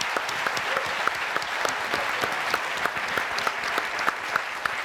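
An audience at a design conference applauds a panel with steady, dense clapping from many hands, moderately loud and continuous, with faint crowd murmur beneath.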